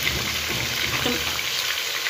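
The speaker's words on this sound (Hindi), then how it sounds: "फ्राई कर लेंगे हल्का सा इसको" Chicken with onion and ginger-garlic paste frying in a pan, a steady broadband sizzle that holds evenly close by with no voices.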